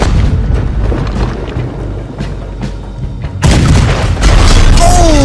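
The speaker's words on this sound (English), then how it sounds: "You need to get that cannon out there." Cannon fire in the Red Dead Redemption 2 video game, during a ship battle in Chapter 5: a sudden loud, close boom breaks over ongoing rumbling combat noise, followed by a second heavy blast and faint voices.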